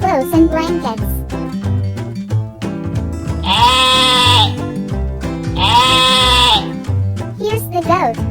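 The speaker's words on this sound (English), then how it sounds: "Next, we have the sheep. The sheep says, "Baa."" Two sustained, wavering sheep bleats ring out over a bouncy children's music backing on a farm-animal learning track, each lasting about a second and loud in the mix.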